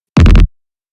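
A hard techno psy bass kick tail built in Serum 2 and bussed through a glue compressor, EQ and clipper: one loud, dense, booming low burst lasting about a third of a second, then abrupt silence.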